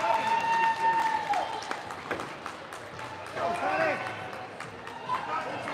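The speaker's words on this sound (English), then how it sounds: "Well, the Arizona crowd is loud." A loud Arizona stadium crowd at a hockey game keeps up a dense roar with scattered whistles and cheers, while a commentator talks over it throughout.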